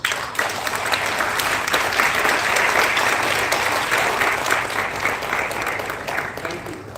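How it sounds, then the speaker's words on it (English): Audience at a national oratory contest inauguration ceremony clapping together in unison, a dense steady wall of applause sustained for several seconds before easing off slightly at the end. "can we clap together?"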